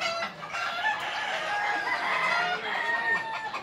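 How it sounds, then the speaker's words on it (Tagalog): A flock of chickens clucking and chattering continuously, with a rooster crowing among them, fairly close and steady throughout. "Shoutout sa mga manok."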